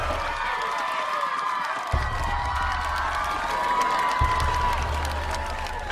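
A crowd at a school Rally Week pep event cheers and applauds steadily, a dense wash of clapping and shouts that swells briefly and stays loud throughout.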